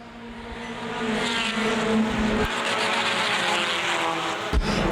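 Compact touring race cars roar past at Winchester Speedway, a rising engine drone that builds, holds loud and steady, then cuts off sharply near the end.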